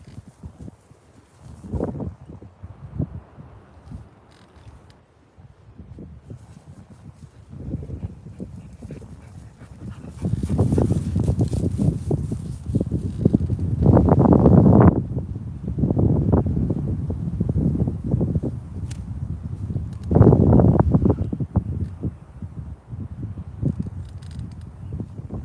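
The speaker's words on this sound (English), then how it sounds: "There ain't nowhere to hide from this wind today" Strong wind blows outdoors by the water where someone is fishing, roaring and buffeting the microphone in loud, low gusts that build midway and stay steady, with a few dull knocks underneath.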